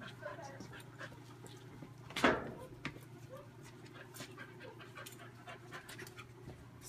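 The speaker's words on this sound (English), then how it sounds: "Bring in the dog." Dog panting, quick soft rhythmic breaths close by in a quiet room, with one sharper huff partway through and faint background hum.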